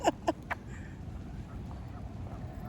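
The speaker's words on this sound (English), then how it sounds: "The little ducks." Ducks quack outdoors after Hurricane Milton, with two or three short calls at the start that then fade into quiet background ambience.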